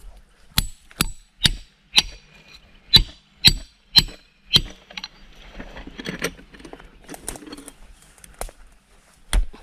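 Hammer blows drive climbing pegs into a tree trunk to reach a wild giant honeybee nest in the Thai forest, eight sharp evenly spaced strikes ringing close and loud, then softer scattered knocks and rustling.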